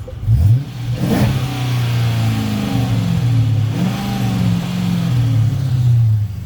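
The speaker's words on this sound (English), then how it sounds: "if you go to the exhaust, like I said, it has an exhaust" A 2012 Dodge Charger R/T with its stock exhaust revs loudly several times, each throttle blip rising in a deep tone before settling back to a steady, rumbling idle, heard up close with no talking.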